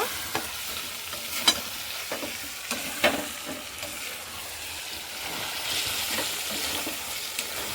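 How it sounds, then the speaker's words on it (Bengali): Chicken curry with slit green chillies and coriander leaves is stirred in a pan, giving a gentle continuous sizzle with soft scraping and occasional spoon taps against the pan, heard alone. "এবার আমি একটু করে নেড়ে নেব"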